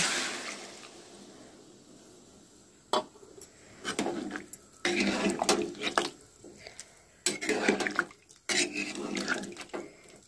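Water left from boiling corn and potatoes is poured into a pan in several close splashing bursts between quiet gaps, with light clatter of the pan and utensils.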